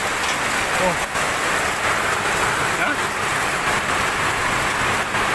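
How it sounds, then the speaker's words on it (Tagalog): Hail and heavy rain fall together outdoors in Pasay, a steady dense hiss of drops drumming on surfaces close by, with brief faint voices over the continuous downpour. "ulan gyud yelo guys ako ginang gipulot diri ako ara yelo na siya ulan kuyog na siya sa ulan"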